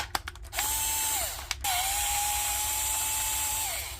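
A cordless power screwdriver spins out T10 Torx screws from a Makita battery pack, two clicky starts followed by a short whirring run and a longer steady whine, close and alone.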